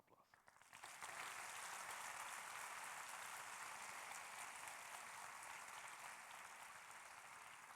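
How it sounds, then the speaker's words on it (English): Audience applause at the closing ceremony of the GSMUN Model United Nations conference begins after a short pause and swells into a loud, even wash of clapping that holds steady to the end. "Give him a round of applause."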